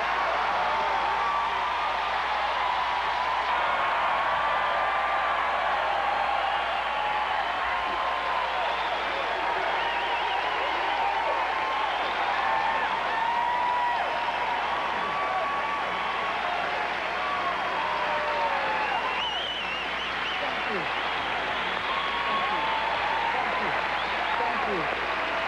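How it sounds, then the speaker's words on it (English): A packed comedy club crowd at the Comedy Store's 15th anniversary gives Richard Pryor a long, loud, unbroken ovation, a thick wash of clapping and cheering that holds steady throughout. "Please let us give a big round of applause to Mr."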